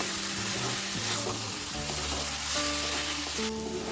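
Banana flower and shrimp fry with garam masala being stirred in a pan, a continuous close sizzle broken by scraping spatula strokes, with tonal clinks from the pan throughout.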